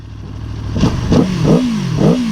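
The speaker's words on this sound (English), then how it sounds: "that V4, baby. Yeah, it sounds like a Moto GP bike" A V4 motorcycle engine revs hard and close, its loud tone rising and falling in quick repeated blips over a couple of seconds.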